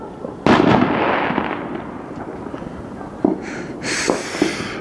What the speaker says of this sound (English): 360 degrees of fireworks around me.